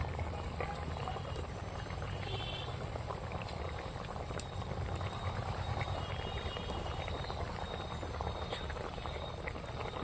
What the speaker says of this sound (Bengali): ঝালটা আমার ফুটছে